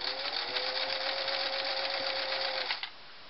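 A Singer Model 347 sewing machine stitches in a fast, steady mechanical whir with rapid needle clatter, close and continuous for nearly three seconds before stopping abruptly.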